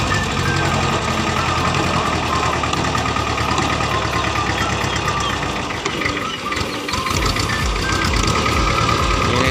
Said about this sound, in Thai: วันนี้มาดูคุณย่าทิพย์ช่วยกับรถไถปั่นหน้า